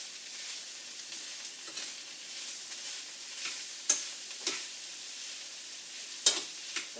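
Onion and chicken filling for Russian pancakes frying in a pan, a steady soft sizzle with occasional sharp scrapes and clicks of stirring, close and with no talk.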